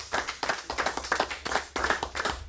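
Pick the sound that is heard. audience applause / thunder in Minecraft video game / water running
audience applause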